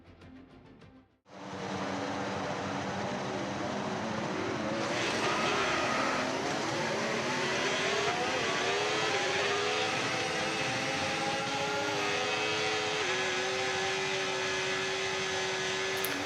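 Race car engines roar up together at the start of a formation lap in a racing video game, a loud, continuous blare of revving motors and rising pitches that fills the whole stretch after a short quiet opening.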